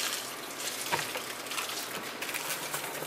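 Water poured into an empty air cooler tank, a steady broad splashing and trickling rush that runs continuously, fairly close and moderately loud, with no one speaking.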